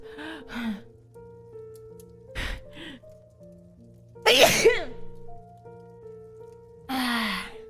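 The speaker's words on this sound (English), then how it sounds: "Oh, I'm gonna sneeze." A person sneezes loudly, with sharp gasping breaths and sniffs around it, followed by another forceful burst near the end.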